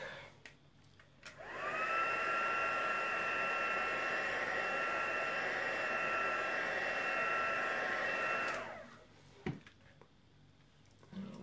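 A heat tool blows steadily for about seven seconds while painter's tape is lifted off an embossed craft project, with a loud, even whoosh that starts and stops abruptly over a quiet background.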